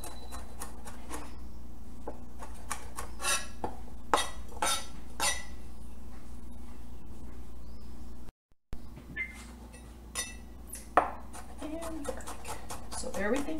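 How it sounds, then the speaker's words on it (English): Knife chopping garlic finely on a board, a run of quick irregular taps and clicks close by, with a brief break midway, while someone talks over it. "So everything gets chopped up nice and fine, just like that, and then you put them all together and you continue to chop."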